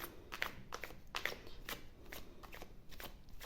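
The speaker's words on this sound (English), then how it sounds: "let's shuffle the cards to see what will happen to you in the next week" Tarot cards being shuffled by hand, a steady run of quiet papery riffles and slaps repeating about every half second, close and soft, with no voice over it.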